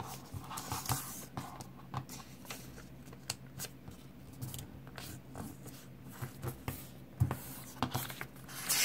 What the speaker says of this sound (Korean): 대각선 반으로 접어주세요. 잘 맞춰서 쓱쓱쓱쓱